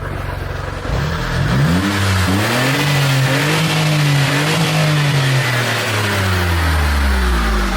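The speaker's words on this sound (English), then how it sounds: "The exhaust is quite loud for being standard" A Smart Roadster Brabus Coupe engine revs up loudly and repeatedly in neutral, each rev rising and falling in pitch, with a deep roar from its standard twin exhaust close by before it eases back toward idle.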